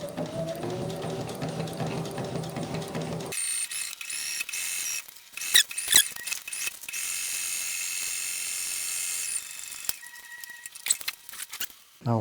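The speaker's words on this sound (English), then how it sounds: "So I'm running the first sew line along the two pieces I'm going to join for the front." An industrial sewing machine stitches marine Sunbrella fabric for a pop-up camper cover, its motor whirring in steady mechanical runs broken by abrupt stops, clicks and clunks of the mechanism.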